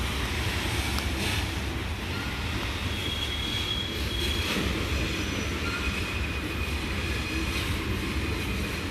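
A loaded CSX coal train rolls past in Grafton, West Virginia, a steady rumble of wagons and wheels with occasional faint squeals, close and continuous throughout.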